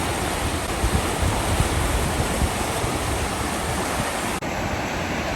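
Rushing water from a river running high after a storm, a dense, steady roar held near and loud throughout with no voices, with a brief dip near the end.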